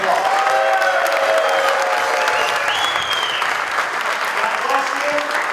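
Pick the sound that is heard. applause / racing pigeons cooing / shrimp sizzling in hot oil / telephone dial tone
applause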